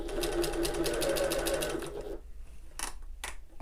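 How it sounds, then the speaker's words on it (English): A domestic sewing machine runs a quick burst of back stitches at the corner of a sewing project, whirring steadily and close up for about two seconds. After it stops, two short mechanical clicks follow. "So to the corner, needle down, lift, press a foot and pivot, and then some back stitches here."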